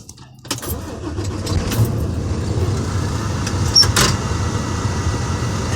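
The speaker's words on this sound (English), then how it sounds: "Now we'll put my truck in safe start." Truck engine cranking and catching during an in-cab inspection, a sudden start after near silence settling into a steady low rumble, with a few clicks and knocks from the cab above it.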